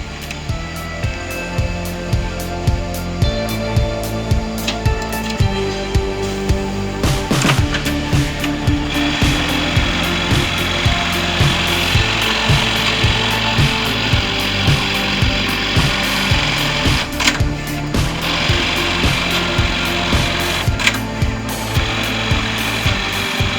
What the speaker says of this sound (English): lot of our stitching is done on computer-controlled machines